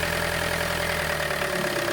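A car engine idles steadily with the throttle held at a fixed position while an alternator load tester draws current, giving a continuous, loud, even hum and drone with no talking.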